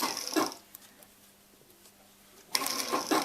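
A sewing machine stitches a fabric pillow cover in two rapid, loud mechanical bursts, with a quiet pause between them.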